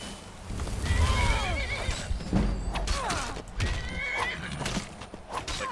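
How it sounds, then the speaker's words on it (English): Shadowmere, the horse in the video game Skyrim, whinnies and neighs repeatedly during a fight, its loud calls mixed with hoof clip-clops and combat noise. "Like, my horse is gonna finish you off."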